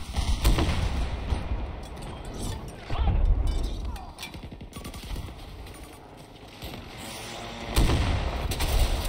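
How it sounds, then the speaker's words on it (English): A grenade launcher fires in Battlefield 2042 battle, with heavy booming blasts at irregular intervals over a rattle of gunfire and explosions, loud and close. "Oh, yeah, grenade launcher."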